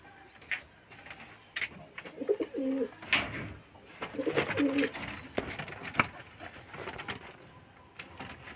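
Pet pigeons cooing softly and intermittently at close range while being fed water by syringe, with faint handling noises and quiet movement around them.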